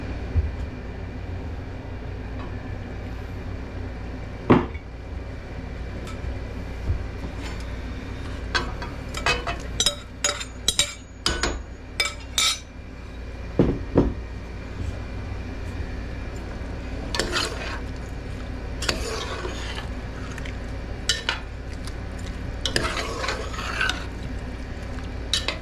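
Chunks of wild pork are tossed into a pot and stirred, with scattered clattering knocks and scraping bursts over a low background hum, busier in the middle and later stretches.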